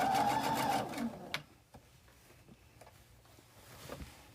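Sewing machine stitching a quilt, a loud steady motor whir for just over a second, then stopping, leaving a quiet room with faint scattered clicks and handling noises.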